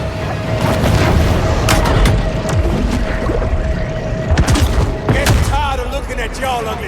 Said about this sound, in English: Bet you didn't think I had torpedoes.